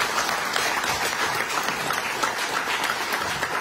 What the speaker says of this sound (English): Let's give all these fine folks a big round of applause.